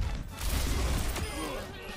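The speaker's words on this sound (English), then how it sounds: "Guess I gotta walk in and just shoot everything" Gunfire in Overwatch 2, a burst of rapid shots with a booming impact, layered over game effects at moderate loudness.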